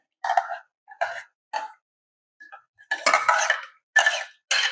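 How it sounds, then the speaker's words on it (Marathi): A metal vessel is set under a strainer while making tomato-carrot soup, giving a series of sharp, close metallic clinks and clatters in separate bursts, busier toward the end. "मी खाली एक भांड ठेवलेलं आहे."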